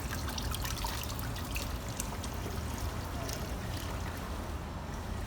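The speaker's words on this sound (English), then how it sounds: "use hot water, or relatively hot water, gentle stream of water, and rinse off the excess" A gentle stream of hot water running at a sink while a dental acrylic partial model is rinsed off, a continuous close splashing trickle.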